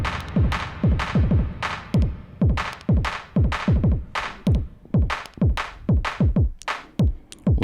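Electric guitar through a Strymon Starlab reverb pedal on a short, drier decay: a fast, rhythmic run of repeated plucked notes, each with a quick slapback-like tail, loud and close with no talking.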